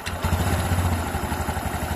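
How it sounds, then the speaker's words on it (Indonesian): A Honda Beat scooter engine catches and settles into a fast, even idle with a steady low putter and some light clatter, close and fairly loud, alone without talk. "coba kita hidupkan. Hidupkan mesinnya."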